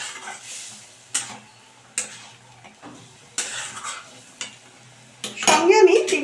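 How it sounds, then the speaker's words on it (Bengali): A spoon stirs green tomatoes and spices in a pan with soft sizzling, making sharp metallic scrapes and taps at an irregular pace that turn into busier clattering at the end. "এবার এই টমেটোর সঙ্গে এই মশলাটাকে কিন্তু ভালো করে মিশিয়ে নিতে হবে।"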